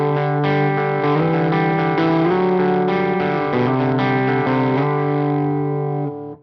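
Electric guitar riff played through The Mutt effects pedal, a steady, loud, saturated distorted tone with chorus shimmer, chords shifting continuously for about six seconds before ringing out.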